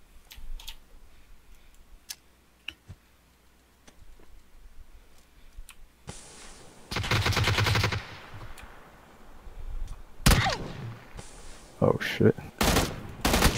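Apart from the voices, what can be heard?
gunfire in a shooter video game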